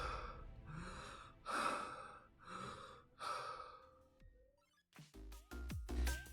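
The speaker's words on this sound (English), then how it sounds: "and even his breath is heavy" Heavy, laboured breathing of a character weighed down by a load of priceless trophies, several slow breaths in succession, close and fairly loud, followed by a few sharp knocks and clicks.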